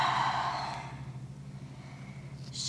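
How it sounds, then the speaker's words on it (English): A single audible breath out while holding a downward-dog yoga pose, close and breathy for about a second, then fading to a soft, quiet background hum. "and breathe."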